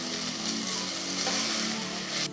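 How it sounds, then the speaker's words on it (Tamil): Ginger garlic paste frying with golden brown onions in a pan, a steady close sizzle and hiss with light stirring throughout, ending abruptly. "இந்த ஸ்டேஜில் நான் இஞ்சி பூண்டு பேஸ்ட் போட போகிறேன். போட்டு நல்லா மிக்ஸ் பண்ணிடுங்க."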